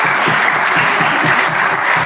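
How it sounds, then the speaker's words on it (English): A conference audience at a biotechnology workshop applauds, a dense, steady burst of many hands clapping at close range with no voices over it. "So I think round of applause for all our audience."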